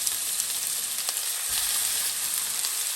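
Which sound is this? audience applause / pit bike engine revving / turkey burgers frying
turkey burgers frying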